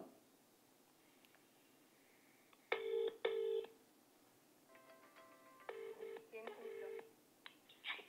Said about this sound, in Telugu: ఒకసారి ఇన్నయ్య గారికి కాల్ చేద్దాం.